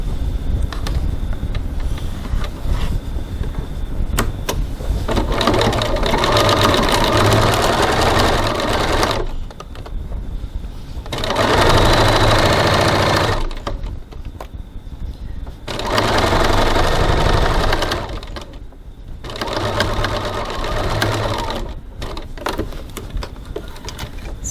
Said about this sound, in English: Stitching the second side.